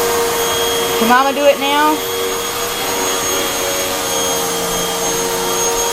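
Vacuum cleaner running steadily with a toddler at the controls, a constant loud whirring drone, pitch wobbling briefly as it moves, while an adult speaks over it.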